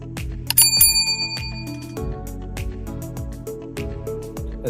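Bicycle bell sound effect used for a subscribe bell icon, bright repeated rings over a rhythmic musical backing, loud and close, without speech.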